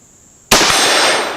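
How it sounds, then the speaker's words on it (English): A single sharp, loud impact bursts in from silence and rings out broadly, fitting a Henry H015-223 rifle round striking an AR550 steel target, with no one talking. "This rifle hit that target every round."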